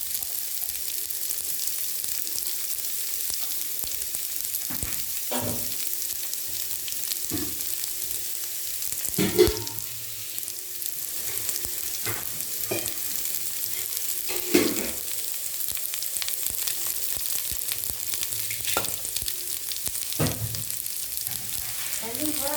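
Radish sizzling in a hot pan for a sambar, a steady crackling fry broken by occasional louder scraping stirs of a spoon against the pan, with no speech.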